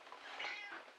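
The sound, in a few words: cat meowing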